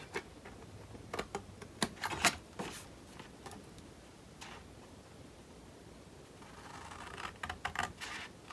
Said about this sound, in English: And I cut off this triangle.